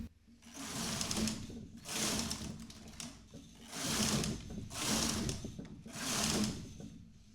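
A double-bed knitting machine works through five rows. Each pass of the carriage makes a soft, rushing mechanical swish, and the passes repeat in a steady back-and-forth rhythm, faint and with no voices.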